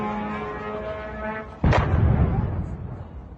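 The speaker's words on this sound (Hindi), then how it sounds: "ये बड़ा धमाका है जो विजुअली आए हैं।" A big explosion from an Iranian drone strike at a warehouse in Kuwait: a sudden loud blast breaks in after a sustained low horn-like tone and rumbles on, slowly fading.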